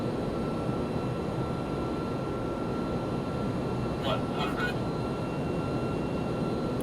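Steady broadband roar of an Airbus A300-600R jet in a flight simulator on landing approach into the flare, continuous and loud throughout, with a few brief higher chirps near the end.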